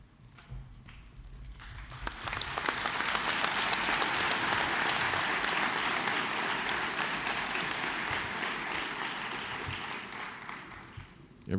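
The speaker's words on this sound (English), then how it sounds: "Everybody beat me to the applause." Sustained applause from a large audience at a university commencement ceremony. Steady, dense clapping rises quickly, holds evenly for about ten seconds, and is heard without speech.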